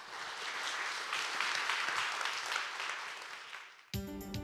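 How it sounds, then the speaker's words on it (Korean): A lecture-hall audience welcoming a seismology professor gives dense, sustained applause that fades near the end before a voice begins speaking. "큰 박수로 맞이해 주시기 바랍니다"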